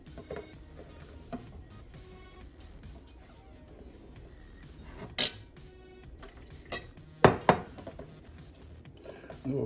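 Cornmeal and water being stirred in a bowl, with soft scraping and a few sharp clinks of a utensil against the dish, quiet and close, ending in a cluster of louder knocks.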